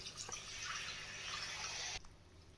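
Tamarind juice poured into a simmering tomato fish curry, a steady close liquid splash and trickle lasting about two seconds before stopping abruptly, leaving a quieter background hum.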